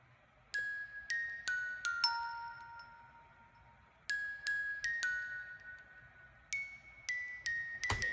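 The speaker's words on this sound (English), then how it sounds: "the last thing in the song is just this little bell melody" A little synthesized bell melody from the Expand 2 plugin chimes in two phrases of bright, decaying notes with a pause between. It rings clear and alone, with no voices.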